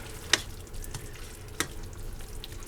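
Mexican yellow squash with tomato and jalapeno simmering in a pan, a quiet steady sizzle with a couple of sharp clinks of a utensil against the pan.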